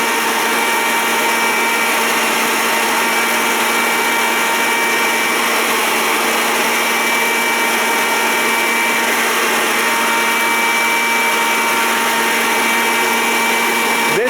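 A feed grinder runs steadily, grinding twelve scoops of two different quail feeds toward crumble fineness; a loud, continuous whirring motor drone holds for the whole stretch with no speech.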